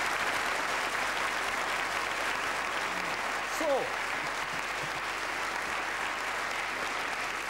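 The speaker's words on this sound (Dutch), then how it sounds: "En een geweldig applaus hier in," Audience applause on a Flemish TV game show, steady sustained clapping throughout, with a voice briefly speaking over it midway.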